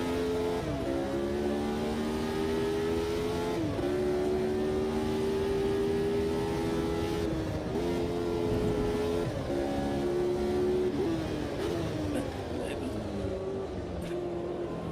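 Race car engine in a sim racing game, steady loud drone climbing in pitch through repeated gear shifts, with a person talking over it.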